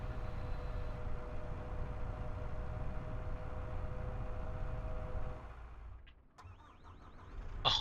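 A vehicle engine in the Farming Simulator 2025 video game idles steadily with a low hum, cuts out, then a brief mechanical whir and rising start-up sound follow near the end.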